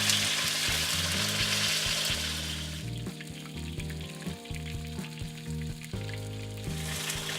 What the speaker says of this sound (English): the fish is done frying